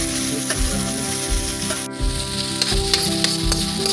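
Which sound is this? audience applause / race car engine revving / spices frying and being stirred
spices frying and being stirred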